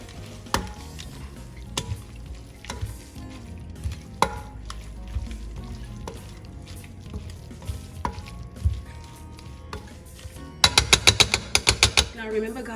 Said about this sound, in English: So I just reduced the heat, and I'm just going to go ahead and mix everything up.